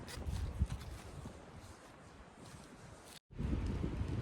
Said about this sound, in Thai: ลมก็มาเป็นช่วงๆแหละ